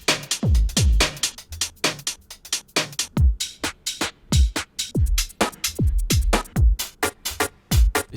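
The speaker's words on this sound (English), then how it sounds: "The pack is full of drum loops that sound like this." UK garage drum loops from a sample pack play with no talking: busy, syncopated kicks, snappy snares and bright hi-hats in a skippy two-step shuffle, dense and up front.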